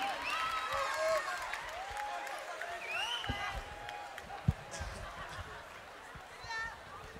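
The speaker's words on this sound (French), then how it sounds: "applaudissez-vous bien fort la famille" Concert crowd at the Zénith de Paris during a raï show, applauding and cheering in a broad sustained roar with whistles, shouts and chatter over it, a sharp clap standing out midway.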